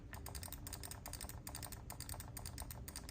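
Rapid, dense clicking from the joystick and buttons of a quarter-scale TMNT arcade cabinet, a continuous close-up clatter with no talking.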